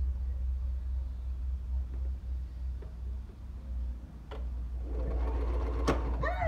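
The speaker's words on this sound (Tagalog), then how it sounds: "napaka-convenient po talaga ng meron kang sewing machine" A home sewing machine stitching a pair of pants in Japan, its steady low motor hum running throughout, with brief clicks and a brighter mechanical rattle rising near the end; no one talks.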